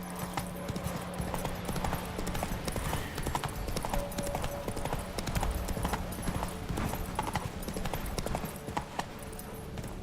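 Roach, a horse in The Witcher 3, gallops with rapid, steady clip-clop hoofbeats over ground, continuous and close for the whole stretch, with a faint whinny underneath.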